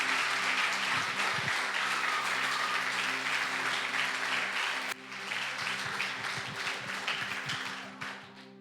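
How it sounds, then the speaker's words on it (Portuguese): A church congregation applauds in praise, a long wash of clapping that holds steady under a faint electrical hum, drops off briefly, then continues more thinly with a few voices before tapering away. "aplaudindo o Senhor em nome de Jesus"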